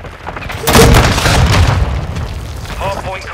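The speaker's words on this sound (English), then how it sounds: "Just got him with the long shot, bazooka." A bazooka fired in a military shooter game lands with a loud, booming explosion that rolls on for a couple of seconds under game chatter and a player's voice.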